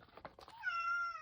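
A domestic cat meows once, a clear drawn-out call lasting about half a second, close and fairly quiet, preceded by a few soft chirps or rustles.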